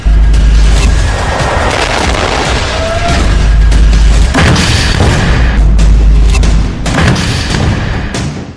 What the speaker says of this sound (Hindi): ग्रेनेड, रॉकेट से इजराइल की सेना पर बेहद करीब से हमला किया गया, जिसका एक वीडियो भी सामने आया है।